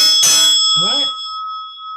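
A hand bell struck once gives a loud, bright ring that hangs on as a sustained tone. A short vocal sound comes through partway as the ringing decays.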